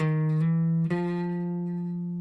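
A clean electric guitar plays a short rising blues phrase, sliding up through two quick hammered notes, a half-step hammer-on to the major third, then sustaining a final ringing tone.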